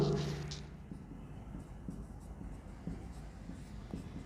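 Writing on a board during a physics lesson: faint, intermittent scratching strokes tick along steadily in a quiet classroom, with no talking.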